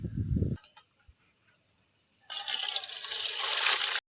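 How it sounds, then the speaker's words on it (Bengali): Thankuni leaf stalks being washed: a brief low slosh and clink at the start, then near silence, then a bright, rushing stream of running water that carries on steadily to the end. "প্রথমেই এখানে খুব ভালোভাবে এই ডাঁটাটাকে ধুয়ে পরিষ্কার করে নেব"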